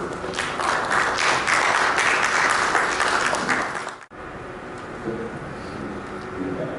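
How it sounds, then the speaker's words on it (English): Audience applause at the ACAN 2019 Symposium and Business Forum in Nigeria, a few seconds of steady clapping that cuts off abruptly, leaving quieter room sound and faint murmurs behind. "A round of applause, please."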